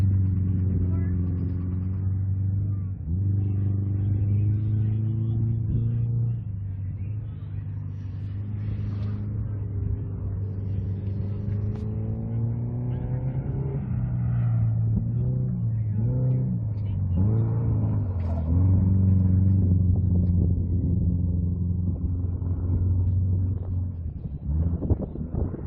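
A rally car on an Arizona rallycross course revs and drives, its engine droning loudly with rising and falling pitch through gear changes, buffeted by wind noise across the whole stretch.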